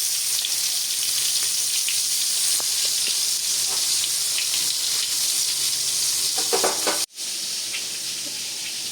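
Coated loitta (Bombay duck) fish frying in oil, a steady loud sizzle with small pops that cuts out abruptly near the end and then resumes.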